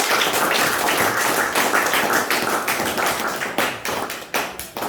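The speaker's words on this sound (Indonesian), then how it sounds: "kita tepuk tangan untuk Pater Lintang" A crowd applauds a missionary priest at a Catholic seminary gathering, steady dense clapping filling the whole stretch, loud and close, thinning slightly toward the end.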